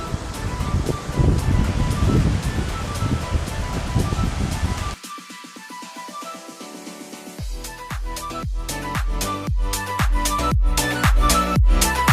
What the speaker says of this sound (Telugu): ఇంత పెద్ద ఉంది వాటర్ ఫాల్